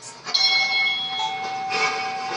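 An old bell examined during a haunted-object investigation rings out clearly, struck once and then again, each strike leaving bright sustained metallic tones that hang and slowly fade in a quiet room.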